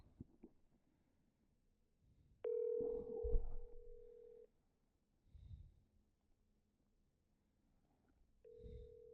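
A phone call rings out with steady electronic tones, a long sustained tone and then a second one starting near the end, with faint breathing and handling noise in the quiet gaps.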